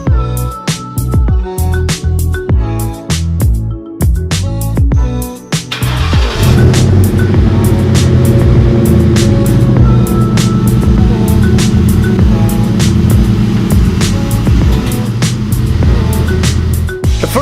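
A New Edge Ford Mustang moves in reverse. A few sharp clicks come first, then a loud, steady engine drone starts around six seconds and holds close and even to the end.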